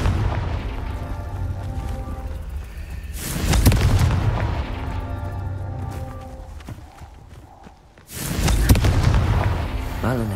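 Confringo fire spell from Hogwarts Legacy going off in two loud booming explosive bursts, each with a broad crackling blast, separated by a rumbling, busy game soundscape.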